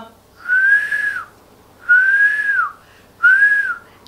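A person whistles without using fingers: three clear, sustained rising-and-falling tones, each about a second long with short pauses between, close and loud over a quiet background.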